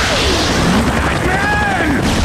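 Missiles launch and explode in a Batman game, a steady dense roar of blasts and whooshing fire with rising and falling whines over a loud rumbling bed, continuous for a couple of seconds.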